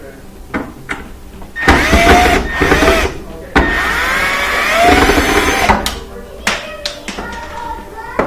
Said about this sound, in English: Now we gotta take out these screws here